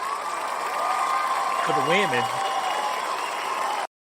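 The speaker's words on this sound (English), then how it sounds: "we got to give at least a slight round of applause, a little bit of a cheer" An audience breaks into applause and cheering, a broad steady wash of clapping with a brief voice rising over it before cutting to silence.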